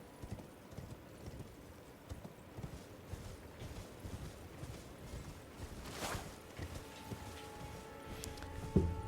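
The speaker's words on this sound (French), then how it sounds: "J'ai un cheval." Horse hooves clip-clopping in a fantasy video game, a steady quiet walking rhythm of hoofbeats throughout with a short neigh near the end.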